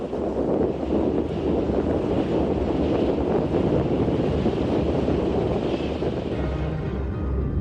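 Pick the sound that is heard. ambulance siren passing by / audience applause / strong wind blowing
strong wind blowing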